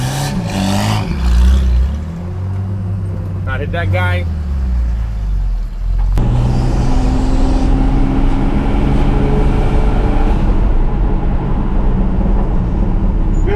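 Turbocharged six-cylinder engine in a 1983 GMC Squarebody shop truck, loud and close as it accelerates hard and holds a steady roar, with a voice speaking over it early on.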